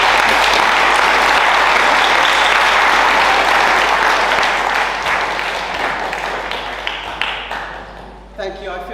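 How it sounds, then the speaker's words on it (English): An audience at a Freedom Summit talk applauding loudly, a dense sustained clapping that slowly thins and fades out over about nine seconds, with a voice starting up at the very end. "thank you very much for applauding Jane"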